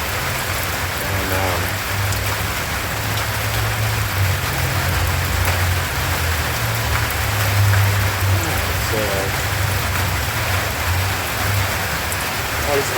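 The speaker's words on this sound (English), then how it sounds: "it's another rainy Saturday here in Kentucky" Steady rain falls on a rainy Saturday in Kentucky, a dense, continuous hiss that stays even and moderately loud throughout, with a low rumble underneath and a couple of faint voices in the background.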